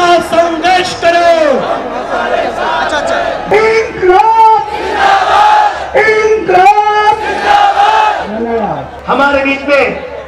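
A large crowd at a Jantantra Yatra rally in Jodhpur, Rajasthan, chants slogans in loud unison, answering a leader's call in rhythmic bursts of massed voices that rise and fall.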